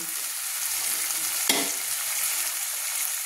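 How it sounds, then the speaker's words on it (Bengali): Tomatoes and onions fry in oil in a pan, a steady close sizzle running throughout, with one brief scrape of stirring midway. "টমেটোগুলোকে আমি পেঁয়াজের সঙ্গে তেলের সঙ্গে একটু ভেজে নেব, একটু নেড়ে নিচ্ছি"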